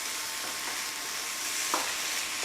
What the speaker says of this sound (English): just keep moving the vegetables around the sides of the pan